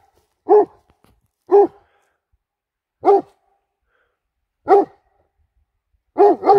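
A Doberman barks outdoors in five loud, deep, separate barks spaced about a second apart, the last a quick double, with silence between them.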